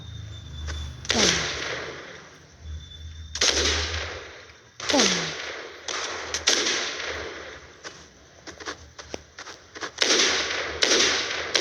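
Repeated sharp gunshots from a video game, some in quick bursts and others spaced apart, loud and close with no talking, fired without a scope.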